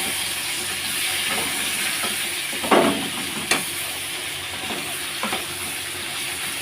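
Pointed gourd and shrimp frying with onion paste, a loud continuous sizzle with a few sharp pops and bursts of spattering nearby, with no speech over it.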